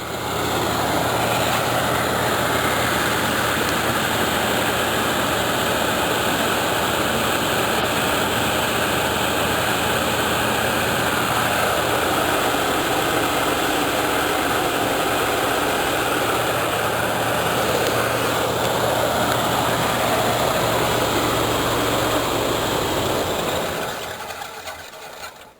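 A cold 1985 Chevrolet Caprice Classic engine, struggling with a vacuum leak, idles roughly for a long stretch, a steady mechanical rumble with uneven vibration, then cuts out near the end.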